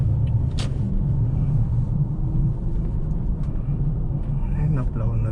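Heavy snow plow trucks rumble past on a winter road during a blizzard, a steady low drone of engines and tires with a brief louder swell, while people talk over it.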